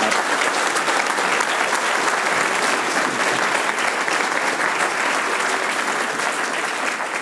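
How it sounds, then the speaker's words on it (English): Steady, dense applause from a large audience, sustained at an even level throughout without a break. "So this gentleman deserves an applause, in my judgment, for asking the question."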